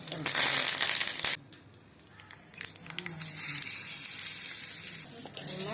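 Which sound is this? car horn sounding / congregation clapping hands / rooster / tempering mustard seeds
tempering mustard seeds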